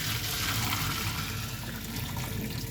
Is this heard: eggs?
no